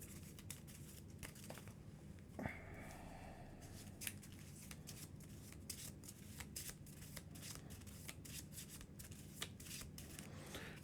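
A deck of Arkham Horror game cards shuffled by hand, with quick riffles and soft papery flicks repeating close up and faint throughout, no talking.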